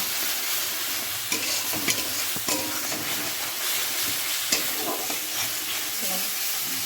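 A dish is stir-fried in a pan with salt added, giving a dense, steady sizzle broken by repeated scrapes and clacks of a spoon stirring.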